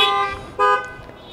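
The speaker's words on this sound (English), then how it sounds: "if there are any veterans present, let me hear your car horns," Several car horns honk from parked cars at an outdoor drive-in church service, a sustained blare that swells briefly again mid-clip before trailing off.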